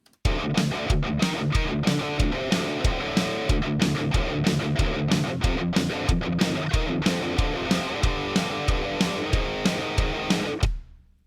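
A programmed MIDI drum beat plays steadily, kick on beats 1 and 3 and snare on 2 and 4, punchy and alternating in a tight repeating rhythm, loud and close, then cutting off abruptly.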